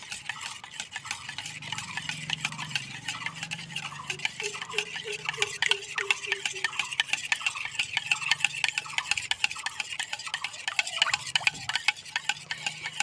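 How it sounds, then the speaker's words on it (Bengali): A whisk or spoon beats homemade sour yogurt smooth in a bowl, giving steady rapid clicking and scraping strokes against the bowl for several seconds, close and continuous with no talking. "দইটাকে এত সুন্দর করে ফাটাবো যেন দইটার ভেতরে একটু গুটা না থাকে।"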